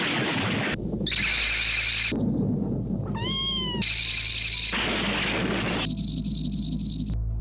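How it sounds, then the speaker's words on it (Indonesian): A black cat gives a sharp, rising startled meow in the middle, set among bursts of loud noisy rumble and hiss. "Tiba-tiba petir terdengar menggelegar dan membuat kucing hitam kaget lalu melompati mayat Mira."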